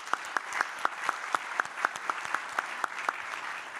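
An audience applauds four presenters at a conference session, with sharp individual claps standing out in a steady rhythm over a softer bed of crowd clapping, at moderate volume.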